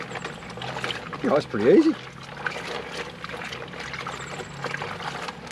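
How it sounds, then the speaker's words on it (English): Clothes squished around in water inside a Scrubba wash bag while camping, soft wet sloshing and trickling close by, with someone talking over it. "so I'll give that a bit of a squish around"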